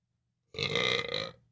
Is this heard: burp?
yes